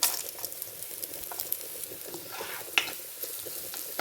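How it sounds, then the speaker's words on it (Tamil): Onion, green chili, dried chilies and curry leaves fry in a pan for a tinned-fish curry, giving a steady close sizzle with a few light scrapes and pops. "இப்போ வெங்காயத்தை போடுறேன் இப்போ ஒரு மிளகாய் பச்சை மிளகாய்"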